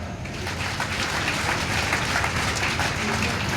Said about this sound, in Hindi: उन सब माता पिता के लिए तालियां बजाओ।